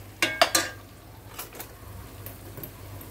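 Onion, tomato and garlic masala being stirred in a pan, with three quick metallic clinks of a spoon against the pan, then softer scraping and a faint sizzle underneath.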